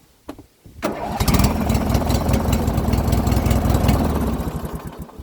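A lawn and garden tractor engine cranks briefly and catches, then runs at a steady, loud idle close by, with no talking.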